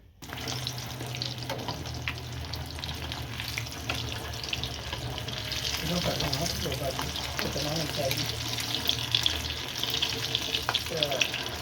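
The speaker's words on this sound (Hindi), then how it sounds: "इधर मैं फ्राई करने लगी हूँ जो है टिक्कियाँ, उसको कबाब को" Potato chicken kabab patties fry in a pan, giving off a steady low sizzle and crackle that builds slightly louder toward the end, with faint kitchen clatter and a voice in the background.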